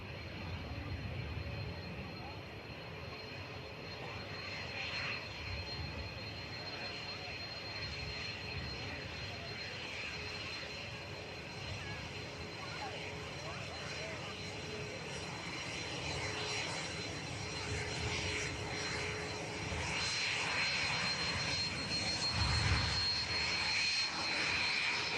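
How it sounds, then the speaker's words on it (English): Hawker Beechcraft business jet arriving at Manchester Airport, a distant steady jet engine rumble and whine that gradually swells toward the end, with faint broadband runway ambience. "Coming in with a Hawker Beechcraft."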